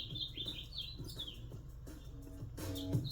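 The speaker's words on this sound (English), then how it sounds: "that bird is incredibly happy" A bird chirps in bright repeated bursts over steady outdoor background noise, faint and somewhat distant.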